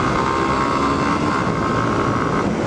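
A motorcycle engine held at high revs, close to 8,000–9,000 RPM while being stretched before a gear change, a loud, steady, unbroken roar that stays near and even throughout with no talking.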